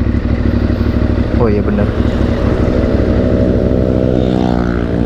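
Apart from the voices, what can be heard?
modified Yamaha Byson motorcycle engine revving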